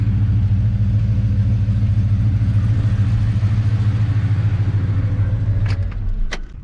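A warm 4WD engine idles with a deep, steady rumble close by. It fades near the end, followed by a couple of sharp clicks.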